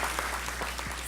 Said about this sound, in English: Let's just give him applause.